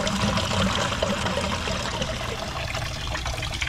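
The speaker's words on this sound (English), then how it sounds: "I really don't want to work on this valve with water flowing" Water rushes and trickles steadily from a leaking valve on a four-pipe HVAC fan coil unit fitted with a Bray Series 70 actuator valve. The flow is close, continuous and hissing, with no talking.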